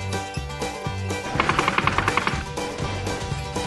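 Gunfire sound effect: a rapid rattling burst of machine-gun-like shots in the middle, set within busy music, with no speech.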